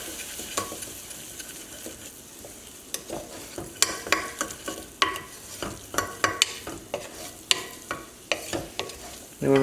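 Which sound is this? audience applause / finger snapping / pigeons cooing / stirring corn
stirring corn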